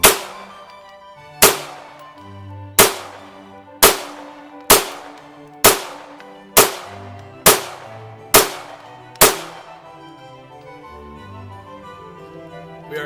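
Ten sharp gunshots from an Arcus 98DAC pistol fired right after being submerged in water, evenly spaced and loud, each with a ringing decay, ending in quiet.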